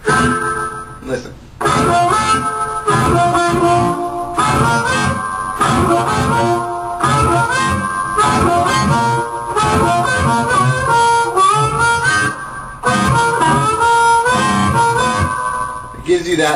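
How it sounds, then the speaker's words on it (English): Harmonica played through a modified Fab Echo pedal set for a reverb-like echo, loud continuous reedy chords and runs smeared into a roomy wash, with a brief pause near the start. "Gives you that sort of bathroom or big hall effect"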